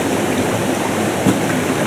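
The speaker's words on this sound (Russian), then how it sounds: "Какой водопад? На карте не обозначен, кстати." Loud, steady rush of a mountain waterfall in a rocky river valley, a close, unbroken roar of falling and churning water with no voices.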